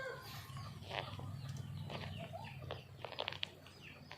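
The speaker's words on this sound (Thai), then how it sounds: "ไก่ป่าครับ ตัวนี้เลี้ยงมา ห้าหกปีหกเจ็ดปีนะครับ" Close red junglefowl rooster calls and clucking with a few sharp wingy bursts over a low steady hum, no one speaking.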